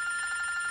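A telephone rings with a steady, clear electronic tone throughout the short moment, close and fairly loud, with no talking.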